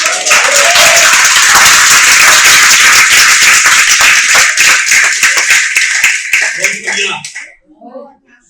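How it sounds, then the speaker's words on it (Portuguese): Church congregation clapping loudly and continuously together, a dense steady roar of many hands that thins out and fades near the end, with scattered voices underneath. "Aplauda o Senhor."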